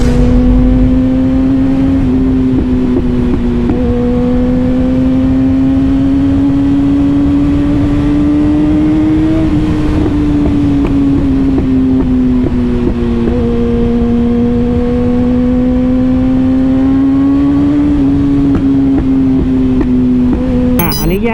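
Kawasaki ZX6R motorcycle engine pulling up through the gears on the road, a loud close whine climbing in pitch then dropping at each shift, repeated in several rising sweeps.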